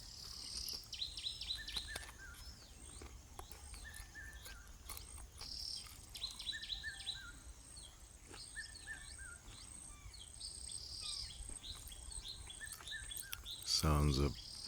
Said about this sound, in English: Sounds of the different bird species and the crested eaglehawk, the crinifer zonurus